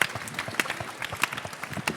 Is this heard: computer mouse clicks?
no